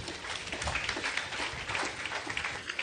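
An audience at a graduation ceremony claps steadily as performers walk to the stage, the applause moderately loud and continuous, with a few individual claps standing out.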